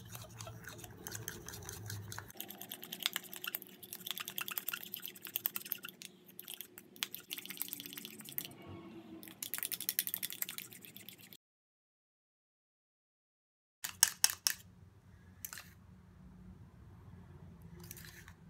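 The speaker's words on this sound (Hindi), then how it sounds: "अब इन सब चीज़ों को हम मिक्स करेंगे अच्छा सा।" Face pack ingredients for acne being mixed into a paste in a small bowl, quiet, close, continuous scraping and tapping of a spoon that stops briefly, then resumes with a few sharper clicks.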